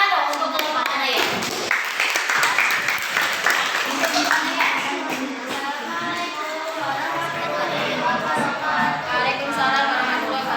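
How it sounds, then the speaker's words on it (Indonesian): A class of students claps for a student group after a presentation on Islamic teachings, a sustained ragged patter of hands mixed with children's chatter and voices talking over it throughout. "tepuk tangan dong untuk kelompok Anda ya"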